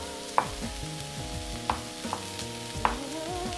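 Food being sautéed in a frying pan for a Mediterranean ragù with sliced olives, a steady sizzle broken by a few sharp clacks as the pan is stirred or tossed, close and with no voices.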